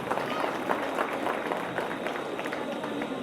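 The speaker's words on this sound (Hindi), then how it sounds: "चलो गुरु जी के नाम से जोरदार ताली बजा दे" Loud, dense clapping from an audience at a devotional Ramayana discourse gathering, a steady wall of many hands that holds at full strength for several seconds with no pause.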